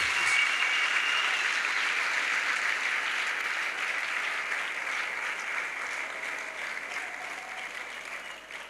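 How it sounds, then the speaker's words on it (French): A congregation at an evangelistic crusade service claps steadily and loudly, a dense sustained wash of applause that fades slightly toward the end, with no talking over it. "Let us clap for Jesus"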